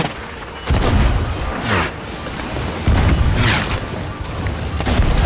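Heavy booming cannon blasts from a ship in a pirate video game, two big thuds with rumbling tails over loud game background noise, close and forceful.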